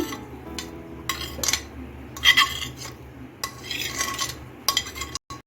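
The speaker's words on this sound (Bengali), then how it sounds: "এখন আমি নেড়ে চেড়ে কালাকাতের একটা মিশ্রণ তৈরি করে নেব" A spoon scrapes and clinks against a pot while chhena is stirred into thickened, reduced milk for kalakand, giving scattered metallic knocks and soft scraping at close range with short quiet gaps.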